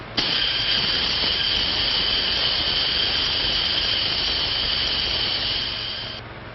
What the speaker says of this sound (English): Turn on the steam.